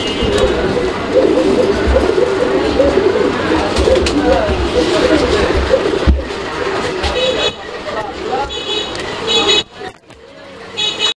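Blue wireless Lahori pigeons coo in a busy pigeon market, low throaty coos repeating under constant crowd chatter and nearby traffic noise, with people talking throughout.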